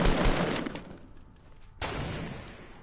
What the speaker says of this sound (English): who the hell is sniping?